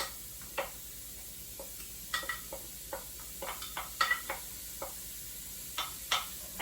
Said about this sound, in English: Hopefully you can hear the sizzle.